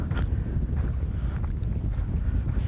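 Steady wind buffeting over open water while bass fishing, a constant low rumble with faint splashes, no voices.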